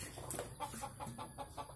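Sumatran red junglefowl, free-ranging near a pen in the morning, give a quiet run of evenly spaced clucks, about six in quick rhythm, faint and somewhat distant, with no talk over them.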